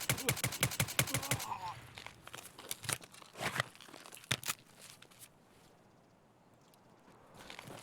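Close-range hip-fire bursts from a TX-15 rifle in Escape from Tarkov, a rapid string of sharp loud shots in the first seconds, then scattered single cracks that taper into quieter ambience.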